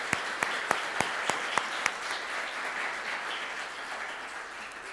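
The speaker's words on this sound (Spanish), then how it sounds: "¿Cuántos le dan un aplauso al Señor?" A church congregation applauds in a steady, moderately distant wash of clapping, with a few sharp, louder individual claps standing out near the start before the applause settles into an even, sustained patter.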